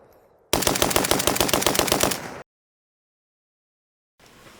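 An Arsenal SAM7SF AK rifle fires a rapid stream of shots for about two seconds, loud and close. The shots are harsh and evenly spaced, and silence follows.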